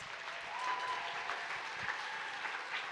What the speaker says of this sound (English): can we give a round of applause to the parents?